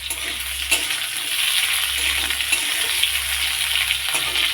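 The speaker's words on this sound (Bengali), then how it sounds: "এটা একটু ভাজা হলে মশলাটা দেবো।" Tomato and spice paste fries in a pan with a steady, close sizzle and occasional stirring scrapes, and no voices.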